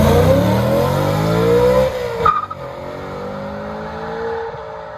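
A BMW E92 M3 fitted with an M Performance exhaust revs loudly and close by, its engine note climbing then cutting off sharply, followed by a quieter settling idle with another brief rise.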